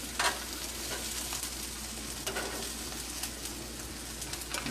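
A pan of wild mushrooms for tacos sizzles steadily up close, with occasional clicks and scrapes as the pan is moved around. No one speaks.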